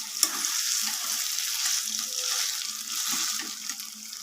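A jackfruit and potato mixture fries steadily in a pan, giving a continuous close sizzle with occasional soft scrapes and knocks as it is stirred, no voices present.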